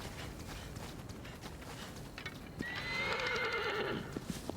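A horse whinnies loudly in the video game Shadow of the Colossus, a bright drawn-out neigh rising over a soft bed of hoofbeats and ambient game sound, with a few clip-clop steps following.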